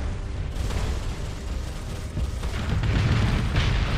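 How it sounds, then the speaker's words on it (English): Missile volleys launching and detonating in the space combat game Starsector, a dense run of overlapping booms and bursts with a rumbling low end, building louder toward the end with no talk. "Fire all the missiles."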